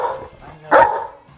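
A single short, loud dog bark close by, preceded and followed by low whining and fussing sounds from the same dog.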